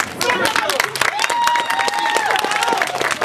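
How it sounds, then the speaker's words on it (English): A theater audience bursts into applause and cheering during a comic Romeo and Juliet performance, steady clapping mixed with scattered shouts, while a performer's voice carries over it. "a big round of applause for our dead guy"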